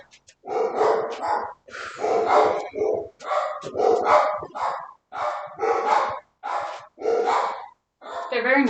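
Several house dogs bark repeatedly in loud bursts with short gaps, close by indoors, at people walking past the house.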